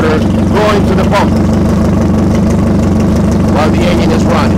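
Yamaha F150 outboard engine running on a flush adapter, a loud steady idle with a low rumbling drone throughout, with faint voices over it.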